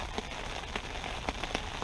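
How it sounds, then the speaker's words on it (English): Heavy rain drums steadily on a fishing bivvy during a pike session, a dense hiss with scattered louder drop impacts, close and continuous with no talking. "It's still chucking it down the rain."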